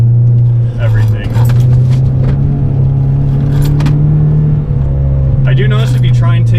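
Steady low engine drone of a car driving hard on a mountain road on new Maptun suspension, with a constant hum and road rumble throughout, a few faint clicks and rattles on top.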